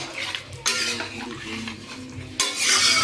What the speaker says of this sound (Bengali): এবারে ঢেলে দেওয়া হলো কড়াইতে